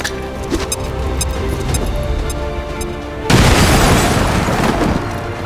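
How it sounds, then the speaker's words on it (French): A grenade goes off in the XCOM 2 video game, a sudden loud boom that cuts in over rumbling game sound and leaves a dense, sustained roar of debris and noise. "Grenade!"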